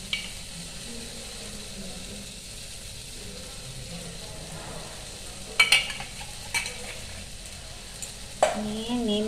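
Neem leaves fry in hot oil in a pan after eggplant. A soft, continuous sizzle runs throughout, broken by a few sharp clinks of a utensil stirring.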